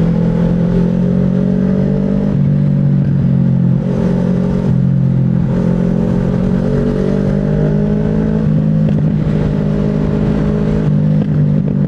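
Motorcycle with a loud aftermarket exhaust revving repeatedly, several rising throttle blips over a steady rumbling idle, close and loud with no talking.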